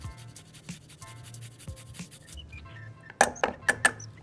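Garlic cloves rub and scrape against a grater for ranch dressing, with soft rhythmic strokes followed by a few sharp louder clinks and knocks near the end.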